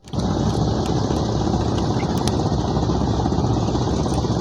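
A river boat engine runs steadily with a rapid mechanical chug and rattle, loud and close and continuous, with no speech over it.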